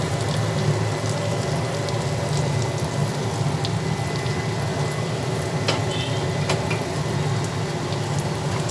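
Fish for a Bengali fish bharta is fried and stirred in a pan, giving a dense, even sizzle like steady rain throughout, with a few faint scrapes and clicks and no speech.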